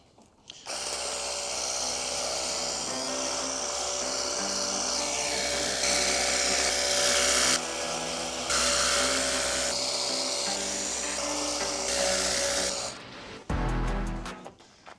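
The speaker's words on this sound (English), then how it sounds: "use the jet wash, lather the bike up with some water" A pressure washer spraying a motorcycle runs with a loud, steady high-pitched motor whine and hissing spray, shifting slightly in pitch before cutting off near the end.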